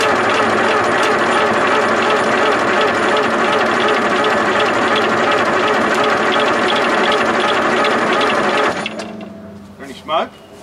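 A Nissan UD5 two-stroke diesel engine cranks loudly and steadily for about nine seconds, a dense rapid churning, then cuts off, leaving faint background sounds.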